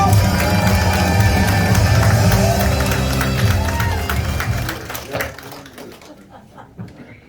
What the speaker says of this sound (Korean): 다시 한번 김상동에게 뜨거운 박수와 함성을 주십시오